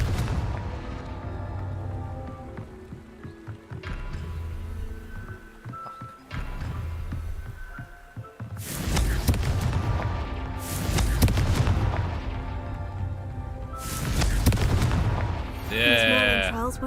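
In the video game Hogwarts Legacy, the Confringo blasting spell goes off in several heavy booming blasts, each one followed by a rumbling tail. Game music plays underneath, and a voice speaks between the blasts.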